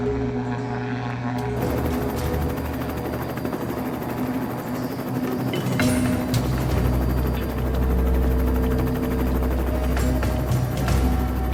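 A helicopter's rotor and engine drone steadily and loudly throughout, with a chopping, whirring rumble that swells slightly partway through.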